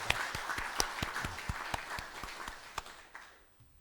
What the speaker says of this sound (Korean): 다들 박수 한번 치고 시작할까요?